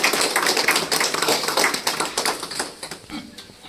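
A crowd at a farewell ceremony claps hands loudly and densely, a thick burst that holds strong and then gradually thins and fades toward the end.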